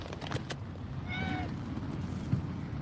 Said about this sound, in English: the cat was able to get a real big mouthful